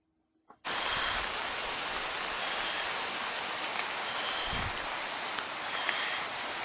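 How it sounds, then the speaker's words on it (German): Water rushes down the rocky upper slopes of Kilimanjaro, a loud, continuous broadband roar that starts abruptly and holds steady throughout, with no voices. "Überall rauscht Wasser runter"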